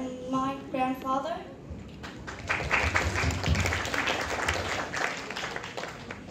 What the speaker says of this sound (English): Can we have a round of applause for Un's grandmother and my grandfather?